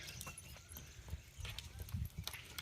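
A tall young horse, about thirteen months old, walks into a show ring, its hooves clip-clopping in an irregular rhythm at moderate distance amid outdoor crowd noise and background voices.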